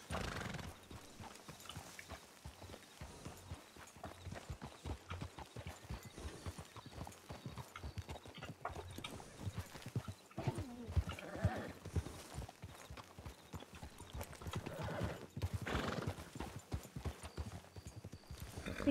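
Horse hooves clip-clop steadily in the RedM video game, a continuous busy patter of hoof strikes from more than one horse with an occasional whinny, soft and even under intermittent talking.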